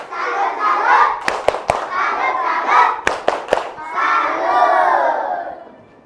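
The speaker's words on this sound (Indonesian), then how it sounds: "Tepuk salut." A classroom of students chants together, broken by a few sharp bursts of synchronized clapping in a clapping salute. The voices are loud and near.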